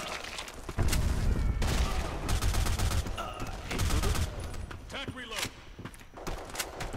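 Rapid bursts of gunfire from a weapon in the online shooter Black Squad ring out over continuous game noise, with someone talking throughout.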